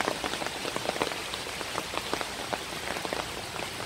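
Steady rain falls during a morning walk outdoors, a dense even patter with scattered sharper drops striking nearby surfaces, continuous and moderately close with no voices.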